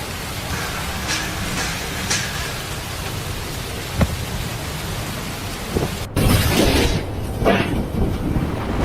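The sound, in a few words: typhoon Yagi storm, wind and rain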